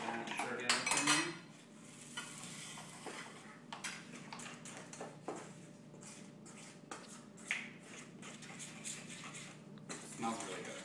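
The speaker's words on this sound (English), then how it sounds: "You just want to stir that together for me." Lemon cupcake batter stirred in a bowl: close utensil clinks and scraping against the bowl continue at a low level throughout, with people talking over them.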